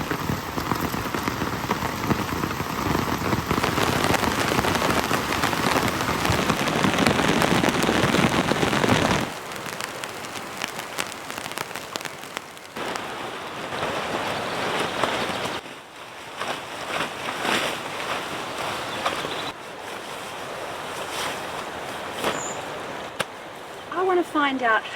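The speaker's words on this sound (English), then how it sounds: "I hope you guys enjoy camping in the rain, because this one is going to be very wet." Heavy New Zealand west coast rain hammers down on a tent and tarp camp, with a loud, dense hiss that later eases into softer, patchier drumming.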